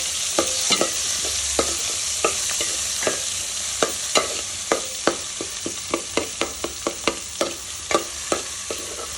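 Dal soup (pappu charu) being stirred in a pot: a steady run of sharp spoon scrapes and clinks against the metal, close and distinct, over a faint sizzling hiss, with no talking.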